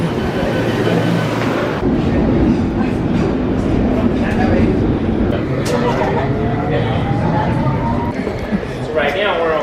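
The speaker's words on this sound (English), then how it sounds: "Taking the metro to Hyde Park." A London Underground Piccadilly line train heard from inside a carriage, a loud continuous rumble and roar with rattling and squeals of the wheels, while voices talk under it.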